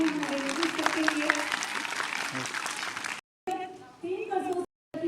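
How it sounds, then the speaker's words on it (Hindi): An audience applauds at a youth theatre workshop closing ceremony, a few seconds of dense clapping with a voice over it, then the sound cuts out twice with thinner clapping and talk in between. "एक बार जोरदार तालियां हमारे लोग करते हुए"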